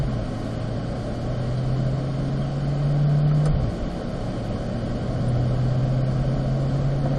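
A car drives on a race track in fourth gear, its engine droning at a steady low pitch. The pitch rises briefly midway, then drops back and settles. The sound stays fairly constant and moderately loud, with no talk.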